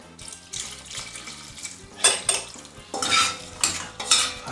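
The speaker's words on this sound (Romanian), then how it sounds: "Amestec un pic aici bine, dar este nevoie să adaug și apă." Water is poured into a pan of tomato paste and stirred, giving clinking utensil scrapes and sloshing against cookware in uneven close bursts, with no talking.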